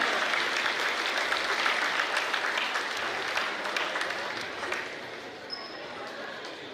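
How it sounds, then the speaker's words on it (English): Audience applause for the senior cheer squad at a high school basketball game in a gym, a dense, steady clapping that fades slightly toward the end. "Let's give a nice round of applause."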